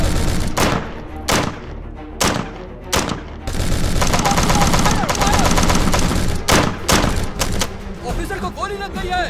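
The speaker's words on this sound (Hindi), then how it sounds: "सामने से फायर हुआ है, फायर करो, फायर करो।" Gunfire rips through a shootout in a Hindi-dubbed Hollywood action film, with sharp single shots and sustained bursts of rapid fire over a dense, loud mix where voices shout beneath the shooting.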